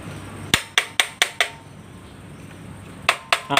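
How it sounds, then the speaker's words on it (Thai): A hammer taps the aluminium housing of a model 1100 electric planer: five sharp, evenly spaced strikes, a pause, then three more, close and loud over a quiet room. "ก็ต้องค่อยๆ ตอก ค่อย ๆตีด้วยนะครับ เพราะว่าเขาเป็นอลูมิเนียมนะครับ"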